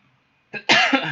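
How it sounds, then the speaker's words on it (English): A single close, sharp dry cough from a man bursts out of near silence, harsh and brief, followed by a short raspy tail. "I have a dry cough."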